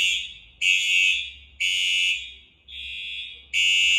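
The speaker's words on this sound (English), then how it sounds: "I was just wondering when the alarm would go off." A fire alarm blares in loud repeated shrill bursts of about a second each, separated by short gaps, piercing and close with no talking.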